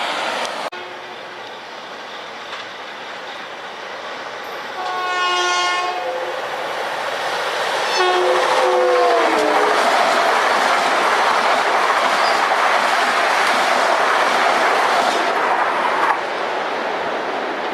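A westbound LIRR train on number 2 track of the main line, doing 80 mph: a horn sounds in two bending blasts as it nears, then a loud, rushing roar of wheels and cars sweeping past up close.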